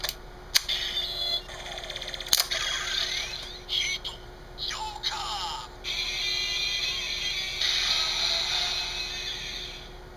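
A Kamen Rider W DX W Driver toy belt plays its electronic transformation music with chiming beeps and synth sweeps, fairly close and continuous for about ten seconds with no talking.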